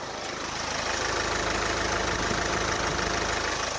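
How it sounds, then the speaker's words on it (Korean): A 2020s Kia Sorento diesel engine idles close by with the hood open, a steady, even rumble with a regular knocking pulse and no other sounds. "디젤 엔진이지만 정말 정숙하고 규칙적인 엔진 사운드 들려주고 있는데요"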